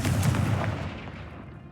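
A Confringo blasting curse from Hogwarts Legacy goes off as a loud, heavy explosive boom with a deep low rumble, then decays over under two seconds without voices.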